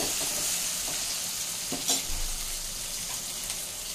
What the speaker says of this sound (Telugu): ఇప్పుడు టమాటా వేసేస్తాను.